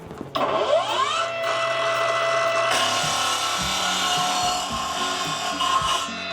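A ProCraft PGS 20 cordless miter saw spins up with a rising whine, then cuts through wood with a loud, sustained grinding buzz close by that lasts several seconds, with no talking.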